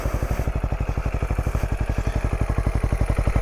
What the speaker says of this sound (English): just look at it. Say you parked it and you get off it. This is the view you have,